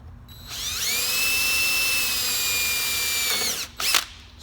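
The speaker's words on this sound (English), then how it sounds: "you do have to be very gentle drilling this stuff" A drill with a 7/32 bit whines steadily for about three seconds as it bores into the corners of a brittle, sun-aged plastic gauge pillar pod, then stops with a short scraping burst.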